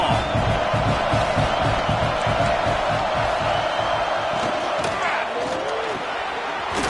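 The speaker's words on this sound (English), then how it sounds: "Listen to this crowd just shaking the girders of this place, trying to help their defense." Dense, loud stadium crowd roaring steadily through a football game as fans try to help the defense, a continuous wall of cheering and noise with a brief slam and some shouting voices mixed in.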